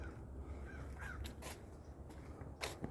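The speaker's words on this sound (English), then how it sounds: "The bird's laughing at me." A crow caws a few times from some distance, its harsh calls spaced out over a low, steady background rumble.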